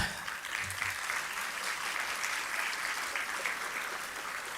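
Conference audience clapping, a sustained even round of applause from many people in a hall, moderately distant and continuous without talk.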